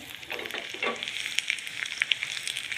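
Garlic sizzling in hot ghee beside dried red chillies, tempering dal for dal baati: a close, bright crackle with sharp popping bursts that builds over a couple of seconds, no voices.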